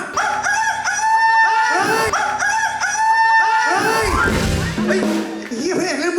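Someone mimics a rooster crowing in several loud, close calls in a row, ending in cluck-like sounds, with other voices mixed in.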